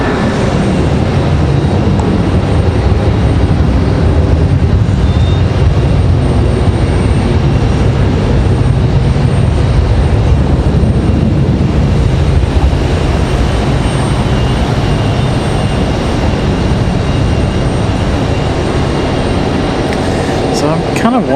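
United Airlines airliner at Raleigh-Durham airport, a loud, sustained engine rumble and roar running steadily throughout, with a voice faintly beneath.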